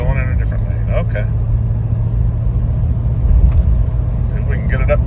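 1990 Ford Bronco cruising on a road, its engine and tire rumble a steady low drone inside the cab, with brief speech over it.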